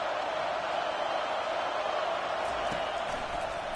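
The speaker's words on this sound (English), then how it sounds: "Decibels rising as the crowd gets behind this defense on 3rd down." A steady, roaring wall of crowd noise fills an Ohio State football stadium as fans get loud behind the defense on third down, sustained and dense throughout.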